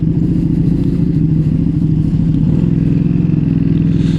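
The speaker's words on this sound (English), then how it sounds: "So, this is a 2022 Ducati Streetfighter V2" The V-twin engine of a 2022 Ducati Streetfighter V2 motorcycle throbs loudly and close, a continuous pulsing growl that deepens slightly partway through, with no talk.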